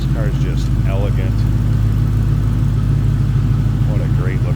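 A 1934 Buick Victoria street rod idles close by with a loud, steady low rumble and a deep, even exhaust throb, while someone talks over it.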